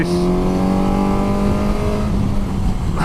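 A Himalayan motorcycle engine revs loudly and close, a harmonic drone that rises and falls while riding on the Yorkshire moors, with no speech over it.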